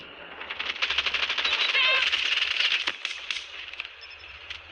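An MP7 submachine gun in a shooting video game, rapid continuous bursts of gunfire crackling for several seconds, fairly close, with a voice talking over part of it.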